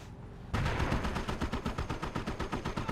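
Rapid automatic gunfire from the Company of Heroes battle game starts abruptly after a quiet rumble and keeps going as a loud, close, rhythmic string of sharp shots.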